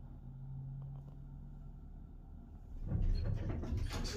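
Hydraulic elevator motor running in a modernized Armor installation, a steady low hum with a constant tone, swelling into louder rumbling clatter near the end as the car starts to move.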